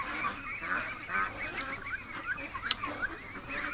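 A flock of domestic ducks and geese, a gosling among them, honks and quacks in an outdoor yard, with repeated overlapping calls close by and one sharper squawk near the end.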